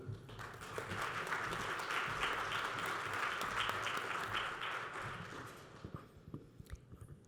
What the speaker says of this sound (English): let's just give another round of applause to all of our board members